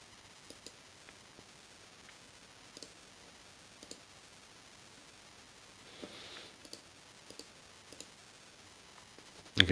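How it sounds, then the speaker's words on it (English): Quiet, sparse computer mouse clicks tick away in the background, irregularly spaced single clicks with a faint static hiss between them and a slightly louder burst at the very end. "You can hear me clicking away in the background."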